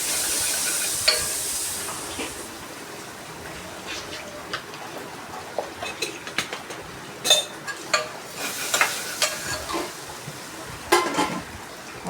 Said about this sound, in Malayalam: നല്ലപോലെ ഇളക്കി പച്ചമണം മാറുന്നത് വരെ ഇളക്കി മൂപ്പിച്ചുകൊണ്ടിരിക്കുക.